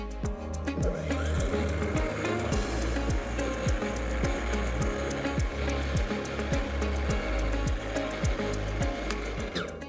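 A Cobra MX3840VX lawnmower cuts grass, its motor a steady close whir with a rhythmic low pulsing and brief rustling bursts as the blades chew through the lawn.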